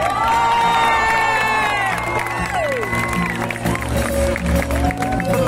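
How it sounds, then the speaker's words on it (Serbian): A concert crowd at an outdoor summer music festival in Šabac cheers, whoops and applauds in a loud, dense wash of voices, with shouting and calls rising over the steady roar. "trebamo aplauz"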